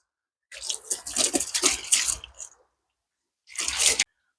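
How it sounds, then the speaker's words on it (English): Garden hose spraying and rinsing soapy greenhouse glass panes, a close hissing splash for about two seconds, a pause, then a shorter burst of spray. "Now we just take our hose pipe,"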